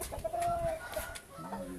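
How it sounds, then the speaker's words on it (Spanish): Hens clucking near their chicks on a farm, a few soft, short clucks and chirpy calls at moderate distance over low background noise. "Acá están. los pollitos donde ustedes los crían."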